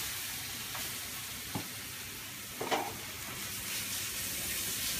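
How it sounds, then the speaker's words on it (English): Gravy comes up to the boil and reduces in a pan, making a faint, steady sizzling bubble with a couple of light clinks of utensils, quiet and without speech. "And bring that up to the boil."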